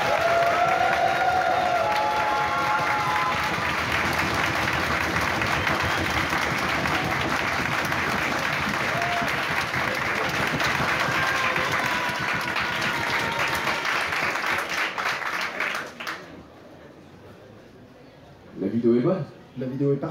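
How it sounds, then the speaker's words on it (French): Audience applause at a costume contest for adult entrants: a long, dense, steady roar of clapping mixed with crowd cheering and whistles, which cuts off sharply near the end, leaving faint room noise and a few brief sounds. "Un tonnerre d'applaudissements pour nos Cloud Riders"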